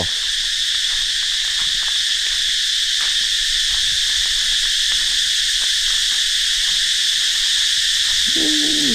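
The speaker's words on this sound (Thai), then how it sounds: "อันนี้เสียงแซวอยู่เลย" A steady, loud chorus of cicadas drones high in the trees without pause, with faint rustles and a brief low warble near the end.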